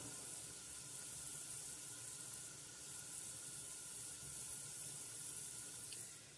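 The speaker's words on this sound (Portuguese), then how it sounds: "E aqui agora, olha, tô dourando aqui o alho." Garlic browns in a pan with a steady, soft sizzle and hiss that holds evenly throughout, faint and close with no talking.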